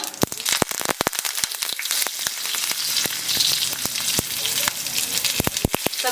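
Mustard seeds and curry leaves sizzle in hot ghee, a loud, steady frying hiss with many sharp popping crackles scattered throughout, close and continuous with no talk.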